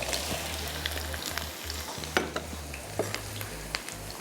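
Carrots and onions sautéing in a pan over lowered heat, a close, steady crackle and hiss broken by several scraping stirs and light taps of the utensil.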